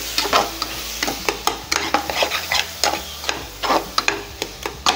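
Cumin powder masala stirred and frying in a pan for egg curry, with a steady sizzle under repeated sharp scraping and clinking strokes of a spoon against the pan, close and fairly loud, no voices.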